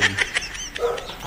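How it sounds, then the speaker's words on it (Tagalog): A dog barks in short bursts, four or five quick yaps close by, then a softer whine-like tail at the end, heard indoors with no talking over it. "Ang ingay naman ng aso"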